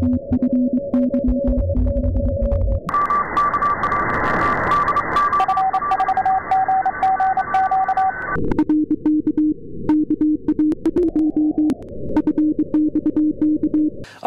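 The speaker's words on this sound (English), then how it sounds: "A lot of the Morse code signals are concentrated in one little area" Morse code signals picked up on the 12-meter amateur band through a software-defined radio with a Nooelec Ham It Up upconverter: steady and keyed tones with on-off bursts over constant radio hiss, loud and continuous, with no talking.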